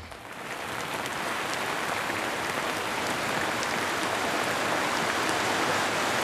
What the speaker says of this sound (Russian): Вот идет дождь